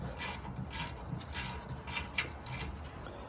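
A wrench works brake caliper bolts loose on a Ford F150 rear brake, with steady ratcheting clicks in a close, continuous run and no voices.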